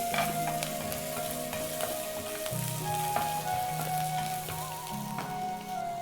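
Chana dal and cashews crackle and sizzle in hot oil with dense, bright spitting and popping that runs continuously and close by, without any voices.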